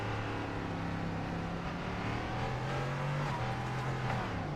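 An LMP3 prototype race car engine at Le Mans in the iRacing simulator, low on fuel and creeping along, giving a steady droning engine tone with slight pitch shifts, continuous and moderately loud.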